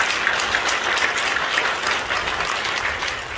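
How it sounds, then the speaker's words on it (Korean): Church congregation applauding during an ordination thanksgiving service for deacons at a Korean Holiness church, a steady, dense wash of clapping from a full room that holds evenly throughout. "박수하시겠습니다."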